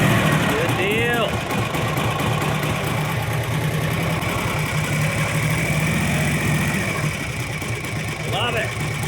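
A roughly 90-year-old motorcycle engine runs after a kick start, holding a steady low, throbbing idle close to the mic with a faint chirp-like sound above it.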